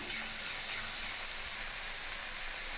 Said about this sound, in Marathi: 1/2 टीस्पून आलं लसूण पेस्ट। आता हे छान फ्राय करून घेऊया आपण।